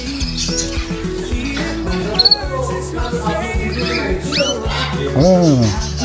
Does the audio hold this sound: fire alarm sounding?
no